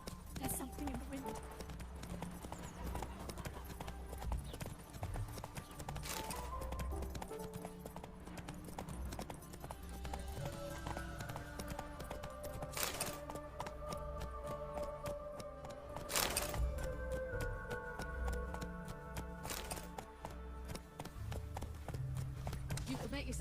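Roach the horse gallops in The Witcher 3 with steady rapid hoofbeat clip-clops under game music and voices.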